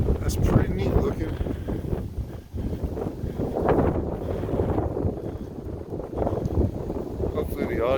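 Strong wind buffets the microphone outdoors in Oklahoma City, making a loud, continuous low rumble that swells and dips, with people talking in places.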